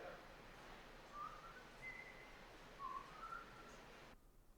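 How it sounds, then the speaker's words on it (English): Someone faintly whistles the Indiana Jones theme, a few short, clear notes drifting over quiet background noise before the sound cuts off. "This guy just whistling Indiana Jones?"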